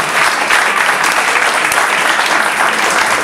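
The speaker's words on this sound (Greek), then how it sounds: "Ένα χειροκρότημα για τον Παύλο Δημόπουλο," A live audience at a gaming fan party claps together in warm applause for a guest, dense and steady for a few seconds.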